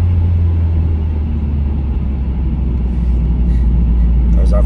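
Supercharged Honda Civic FN2 driving on the road, heard from inside as a loud, steady low engine drone and road rumble that builds slightly toward the end, with no clear rev climb.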